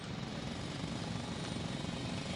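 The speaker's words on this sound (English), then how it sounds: "It's a drill." A drilling machine in the sci-fi video game The Invincible roars continuously and loudly, a dense, steady mechanical grind like a jackhammer that fills the whole clip without pause.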